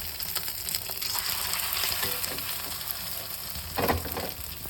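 Chicken pieces coated in chilli powder, egg, cornflour and salt sizzle and crackle steadily in hot oil, a dense close frying hiss with a brief louder burst near the end.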